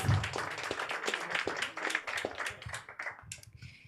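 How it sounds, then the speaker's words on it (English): Scattered clapping from a small group, irregular sharp hand claps that thin out toward the end, with no talking. "it deserves a round of applause"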